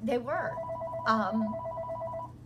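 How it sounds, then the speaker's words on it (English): A telephone rings in two bursts indoors, under and between a person's emotional speech. "Please excuse the phone from ringing."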